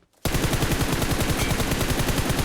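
Rapid automatic gunfire from the mobile game PUBG Mobile starts abruptly after a brief silence and continues as a loud, dense, unbroken burst of shots.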